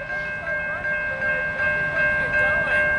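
Train rolling past an active two-track railroad crossing, loud and close, with sustained ringing warning tones over a rumbling, rhythmic clatter of wheels.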